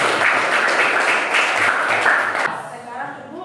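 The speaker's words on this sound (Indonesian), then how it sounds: "Ya, tepuk tangan sekali lagi." Students applauding in a classroom, a short burst of lively, close clapping from a group of children that stops abruptly, leaving quiet room sound with faint voices.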